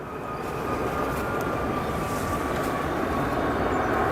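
A Lufthansa airliner approaching at O'Hare airport gives a steady, broad jet roar that swells slightly and then holds loud and even throughout, with no voices.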